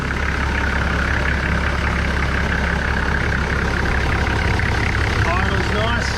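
A Toyota Landcruiser 1HZ diesel engine with a high-mount turbo, 482,000 km on it, idles steadily with a constant low rumble and continuous broadband noise throughout.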